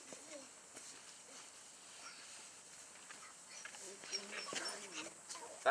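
Finno-Ugric shepherd puppies whimpering and yelping, with thin, high whines and a few short barks growing busier toward the end, fairly faint and close, with some quiet background talk.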